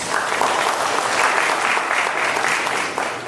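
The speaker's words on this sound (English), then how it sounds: "A round of applause, please." An audience applauds at a Tibet Day panel discussion, dense and loud. The clapping is sustained throughout and fades slightly at the end.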